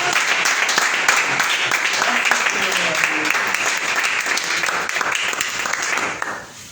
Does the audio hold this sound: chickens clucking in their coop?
no